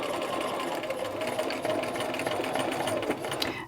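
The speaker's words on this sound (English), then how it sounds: "I'm going to go forward and back stitch one more time" A sewing machine hums steadily and close by while stitching forward and back along the edge of a garment pocket flap, running continuously before cutting off at the end.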